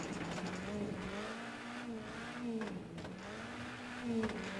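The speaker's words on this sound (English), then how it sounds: "it'd be nice to hear better engine sounds when you're in first person" Rally car engine from the first-person view in the racing game WRC 10, a muffled continuous engine tone rising and falling with gear changes and throttle, heard faintly at low level.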